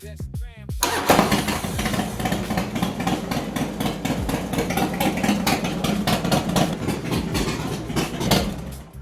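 A Harley motorcycle engine cranks and catches, then settles into a loud, close, lumpy idle with a rapid, uneven mechanical chatter as it warms up for an oil change.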